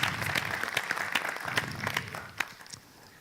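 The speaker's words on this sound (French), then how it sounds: "Applaudissements" Conference audience applauds after a speaker is introduced at a debate among list leaders, a moderate scattering of individual claps that thins out and fades toward the end.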